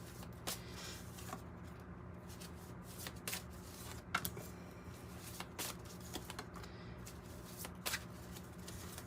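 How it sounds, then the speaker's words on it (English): Tarot and oracle cards being shuffled, a steady soft riffling and shuffling texture with scattered crisp card snaps, close and fairly quiet, with no talking. "I'm pulling 2 from the Urban Tarot, 2 from the 108 Oracle for each day"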